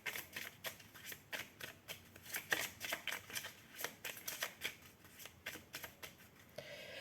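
Tarot cards riffle and snap through a steady run of shuffling and drawing, a quick irregular rhythm of crisp papery flicks played up close on their own.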